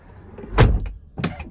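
The automatic door of a Tesla Model X opening: a loud mechanical whoosh and thud near the start, then a second, softer motorized sweep about half a second later, close by with no talking.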